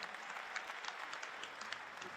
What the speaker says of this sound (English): Let's give Mr. Sweat a round of applause.